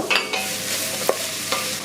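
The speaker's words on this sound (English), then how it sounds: "we're gonna sweat the pancetta, the celery, the onions, and the carrot for 10 minutes until it's softened" Pancetta, celery, onion and carrot sweat in a pan for lasagna, with a soft continuous sizzle and a few sharp clinks and scrapes of stirring close by.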